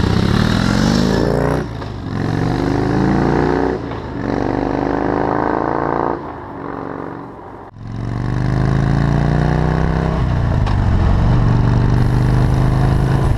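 A Harley cruiser being ridden in Florida, its engine droning loudly and close with rising and falling pitch as the rider works through gears, brief dips between shifts.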